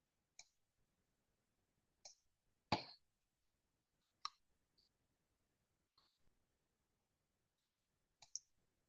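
Sharp computer mouse clicks, about seven of them spaced irregularly one to two seconds apart, close and distinct against near silence, during a vastu course lesson using a digital ruler on a map.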